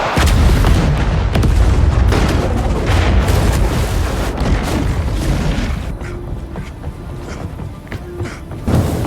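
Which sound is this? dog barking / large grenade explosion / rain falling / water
large grenade explosion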